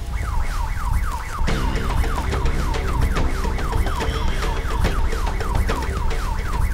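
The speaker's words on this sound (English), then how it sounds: "An alarm's triggered, a call to arms." An electronic alarm wails at a rhino reserve at night, a loud, rapid rising-and-falling siren repeating steadily and close by, with a second lower tone joining partway through.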